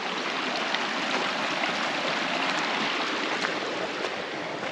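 A small creek flows over a crossing on a forested redwood trail in Henry Cowell State Park, a steady, close rushing and gurgling of water that stays constant throughout with no voices.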